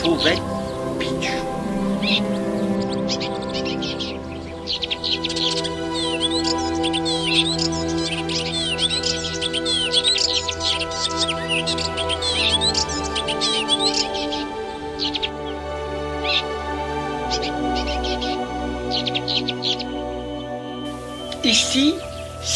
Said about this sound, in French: Et la fauvette Pichou.